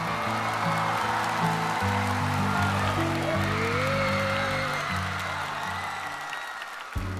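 A studio audience at a televised singing competition applauds steadily after a performance, a dense wash of clapping, while music and a voice carry on underneath.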